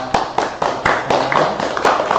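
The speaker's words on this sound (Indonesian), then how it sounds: "Tepuk tangan dulu buat" Quick, loud, evenly spaced claps from a small group during an informal podcast chat with an internship team from UNSIKA.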